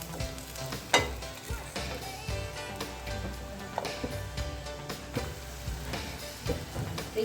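Potato patties frying in a pan, being flipped to their other side once golden, with a steady sizzle and a couple of sharp scraping turns up close, no talk.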